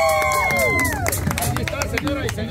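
A crowd at a raffle claps and cheers for the winner, a dense patter of hands rising under an excited announcer's voice and loud chatter.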